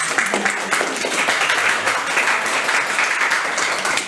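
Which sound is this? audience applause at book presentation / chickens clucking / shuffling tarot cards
audience applause at book presentation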